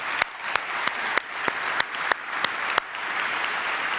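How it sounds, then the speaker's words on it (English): Steady audience applause at a software developer conference, dense clapping from a sizable crowd with regular sharp claps standing out above the wash, sustained throughout. "I'd really like to ask you to just give a round of applause for all the folks from Dev"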